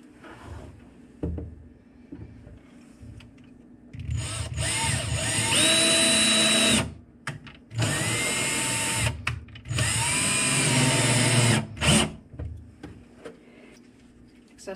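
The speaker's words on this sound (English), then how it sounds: "You want to pre-drill it?" A cordless power drill pre-drills a hole during a casual indoor fixing job, with several loud whirring bursts that rise and fall in pitch, broken by short pauses and faint background voices.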